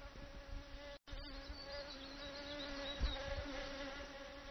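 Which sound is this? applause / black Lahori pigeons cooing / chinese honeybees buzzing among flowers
chinese honeybees buzzing among flowers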